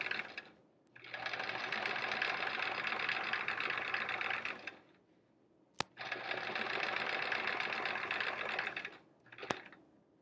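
A sewing machine does free-motion quilting on a quilt-as-you-go sampler block, running loud and steady in two long bursts of about four seconds each, separated by a short pause with a sharp click.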